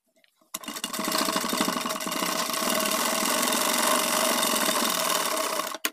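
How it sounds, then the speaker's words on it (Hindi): Sewing machine running a steady continuous stitch along the edge seam of a pajama pocket, close and fairly loud for about five seconds, starting and stopping abruptly with no talk. "अब इसी सिलाई के ऊपर यहाँ से यहाँ तक हमको एक किनार की सिलाई लगा लेना है"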